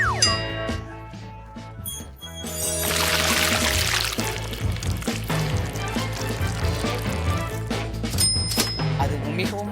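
Melted chocolate pours over a cake amid light clinks and bright ringing dings from utensils and dishes, a close, busy kitchen scene with bursts of sound rising and falling.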